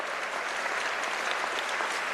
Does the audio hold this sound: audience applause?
yes